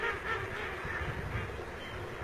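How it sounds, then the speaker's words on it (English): A northern shoveler duck in a high-altitude wetland, faint and distant, its soft calls blurred into a steady wash of outdoor ambient noise. "the northern shoveler."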